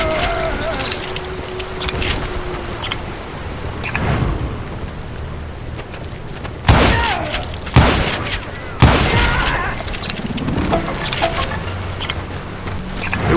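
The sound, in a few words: gunfire in a western shootout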